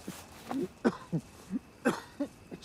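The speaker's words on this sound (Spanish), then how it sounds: "Reconozco una tos amiga cuando la oigo" A man's muffled coughs behind a mask, a string of short bursts spaced unevenly over a few seconds, close and fairly quiet, with no talk.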